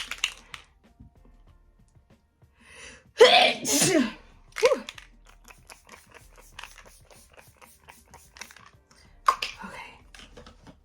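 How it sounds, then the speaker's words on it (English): A single sudden sneeze bursts out close by during a makeup routine, followed by quiet breaths and soft handling noises. "It always makes me sneeze."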